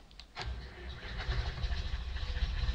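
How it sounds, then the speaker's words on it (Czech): A tractor engine in Farming Simulator 19 cranks and catches, then settles into a steady, loud, low throbbing idle close by, with no talk over it. "A mně se ten zvuk mega líbí u tohle traktora"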